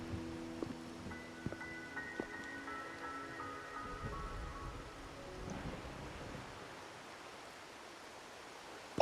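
Steady rain hiss and patter in the game Wuthering Waves, a broad continuous wash with faint rumbling underneath, accompanied early on by soft tonal game music that fades away.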